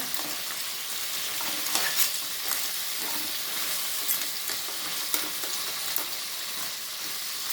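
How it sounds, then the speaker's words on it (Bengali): Crabs frying in a pan with salt and turmeric crackle and hiss steadily, with scattered sharp pops and spatters rising over the constant sizzle. "প্রথমে আমি একটু ভালো করে কাঁকড়াগুলোকে ভেজে নেব"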